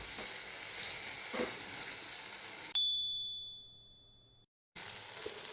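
Red chilli paneer sizzles and fries in a pan with tomato sauce as it is stirred, a steady close hiss for about half the time, then a sudden cut to a thin high ring that fades out, and the sizzle returns after a short silence.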